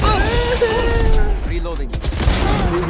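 Rapid bursts of gunfire ring out during a Valorant tournament match, sharp cracks scattered through the clip under steady, excited player chatter.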